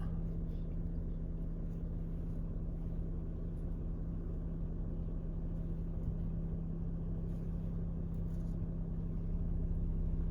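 A car driving around the edge of a farm field, a low steady engine rumble with a constant drone that runs unbroken throughout, with no talking.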